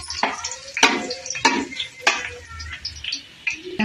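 Biryani spices, including shahjeera and bay leaf, fry in a pan under a soft sizzle, broken by several sharp scraping strokes from stirring at an uneven rhythm.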